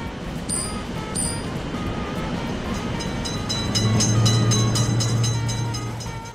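A train in a railroad crossing simulator video game rumbles past with a steady low roll that swells toward the end, and crossing bell tones ring near the start.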